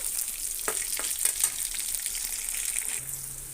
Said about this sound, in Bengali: তো আমি রসুনের সাথে শুটকিটাও ভেজে নিচ্ছি